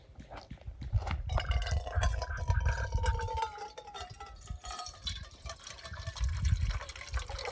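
Water pours and trickles into a cooking pot at a campsite on an Appalachian Trail thru-hike, a steady gurgling fill with splashes and clinks, heard close and fairly quiet with occasional talk in the background.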